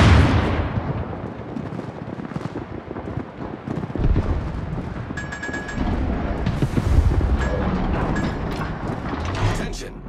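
Naval artillery in World of Warships, heavy booming gunfire rolling and echoing, loud and dense, mixed with in-game radio voices calling out orders.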